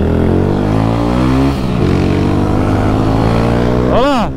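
Honda Start 160 motorcycle fitted with a Dore exhaust idles and revs loudly up close, its steady engine drone rising and falling, with a sharp rev burst near the end.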